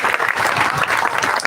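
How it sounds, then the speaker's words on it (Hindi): An audience at a rally of survey workers breaks into dense, steady applause to welcome a speaker, close and loud, with the clapping continuing unbroken and no talk over it. "इनका तालियों से स्वागत कीजिएगा।"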